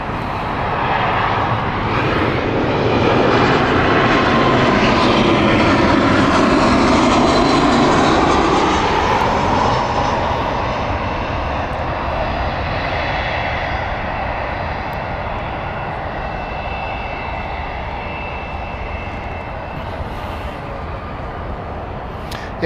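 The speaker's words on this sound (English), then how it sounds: "British Airways Hamburg flight next" A British Airways Airbus A320 jet at Heathrow Airport passes loudly, its engine roar swelling and sweeping in pitch before slowly fading into a steady distant rumble.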